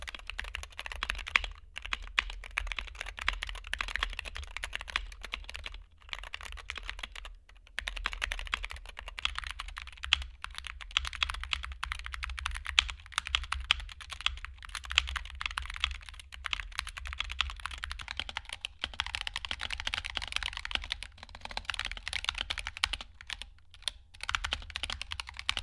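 Continuous clattery typing on gaming mechanical keyboards, with rapid uneven keystrokes and brief pauses, close up and fairly loud.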